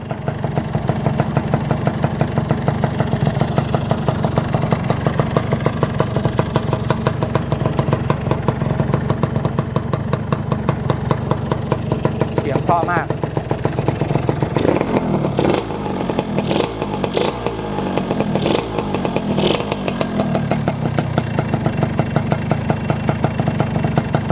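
A Yamaha RXS motorcycle idles steadily and loudly up close with a rough, even engine throb throughout, and a few brief throttle blips partway through.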